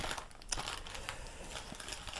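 Soft, irregular crinkling of paper close by, with a few sharper crackles and rustles, no voices.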